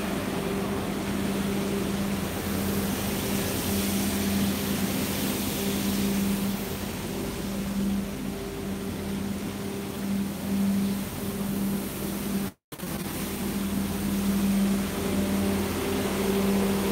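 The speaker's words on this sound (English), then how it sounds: "Those are all different types of vehicles cleaning the streets." Street-cleaning maintenance vehicles working on narrow pedestrian streets in Paris give off a steady engine hum and droning whine, continuous and moderately close, briefly cut off once.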